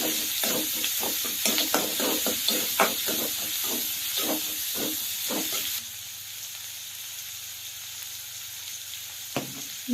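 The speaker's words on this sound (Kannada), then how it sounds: "ಇವಾಗ ಟಮಾಟೆ ಚಲೋ ತಂಗಿ ಇದನ್ನ ಫ್ರೈ ಮಾಡ್ಕೋಬೇಕು ನಾವು." Tomatoes frying in a pan for spinach sambar: a hissing sizzle under a quick run of spatula scrapes and taps for the first half, then a quieter steady sizzle with a single later scrape, close by and without talk.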